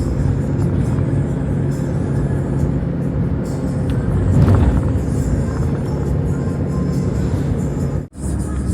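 A large taxi drives through Barbados with a steady, loud engine and road rumble filling the cabin throughout, then briefly dips near the end.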